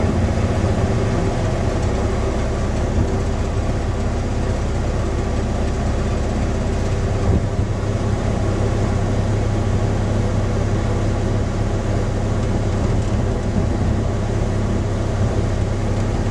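The engine of a 1977 Superior/Ford B-700 bus with a small fuel leak runs steadily up close, a constant rumbling drone with a faint whine above it that carries on without change.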